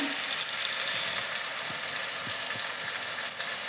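Tomatoes sizzle steadily in hot oil for chukka kura (sorrel leaf) chutney, a dense continuous frying hiss with a few soft stirring knocks underneath and no talking.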